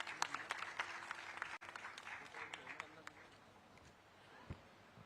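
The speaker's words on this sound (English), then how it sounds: "let's give a big round of applause for Mr." An audience at an aviation launch event in Nagpur claps in a fairly faint, scattered round of applause that thins out and fades toward the end, with a few louder isolated claps.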